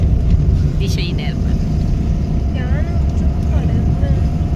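A low, steady engine and road rumble from a car on a long drive to a wedding fills the scene, with voices talking over it.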